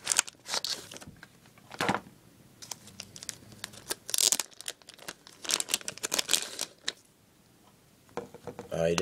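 Paper and plastic wrapping from a hockey card mail package crinkle and tear in quick close bursts, with brief pauses between the rustles.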